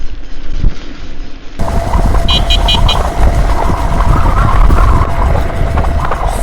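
A vehicle horn gives a quick run of three or four short toots over loud, steady traffic and rain noise on a wet street.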